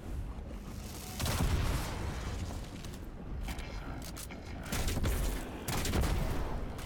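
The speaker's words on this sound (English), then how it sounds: "just that solid hit followed by an explosion is just so nice" Grenade launcher rounds in a video game, with heavy hits and booming explosions that land in a few loud surges over a continuous background of noisy gunfire.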